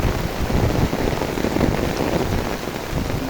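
Torrential monsoon rain falling over brimming canals in Burichang, Comilla, where fishing is under way; a loud, unbroken wash of drops fills the scene with no speech.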